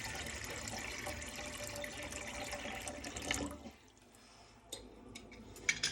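Water is poured from a tap into a cooking pan, a steady rushing fill that stops partway through, followed by a few light drips and clinks.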